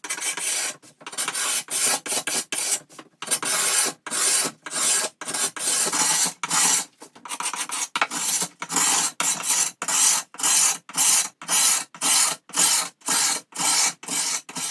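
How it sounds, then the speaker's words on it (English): A scraper rasps across a veneered wooden drawer during refinishing, in steady, repeated close strokes with short pauses between them. The pace quickens toward the end, and no one speaks. "we're finished with the scraping"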